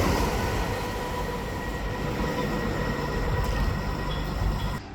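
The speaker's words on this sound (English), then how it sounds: "Coming through now, we have a GWR set of Class 387s from Newbury" A GWR Class 387 electric train set passes through Hayes & Harlington station on the Great Western Main Line with a loud, steady, close rumble and rail roar that drops off sharply at the end.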